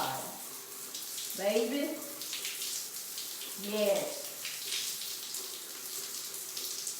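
Warm water runs from a tap while hair is rinsed, a soft steady stream with a couple of brief splashing surges, and a voice speaks briefly over it.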